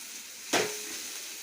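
Onion and kurdai stir-frying in a pan on a high flame, with a sudden sizzling burst that then settles into a steady soft hiss.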